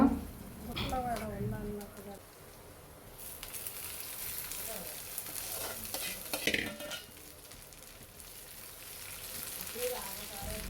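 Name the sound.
tempering spices (curry leaves, cumin) frying in oil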